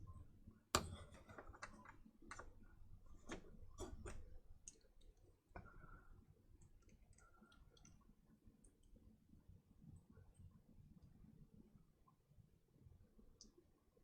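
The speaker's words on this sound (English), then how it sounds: "Who's typing?" Scattered keystrokes on a computer keyboard, a loose run of sharp clicks bunched early and then thinning out, faint and fairly close with quiet room tone between taps.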